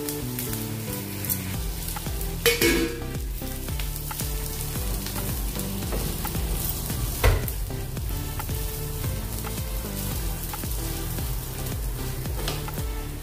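Crushed peanuts and green chilies sizzling in a pan for sabudana khichdi, with a steady, close frying hiss and occasional stirring scrapes.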